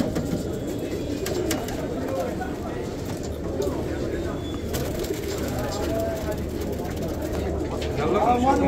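Pigeons coo at the Al-Kasra bird market in Adhamiya, Baghdad, with soft repeated calls set against a busy background of murmuring voices and street noise.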